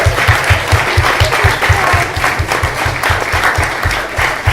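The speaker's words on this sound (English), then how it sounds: "please can everyone join us just in a big round of applause for how well Abby did" Wedding guests applaud together in a loud, sustained round of clapping, with a steady pulsing beat running underneath from music in the reception room.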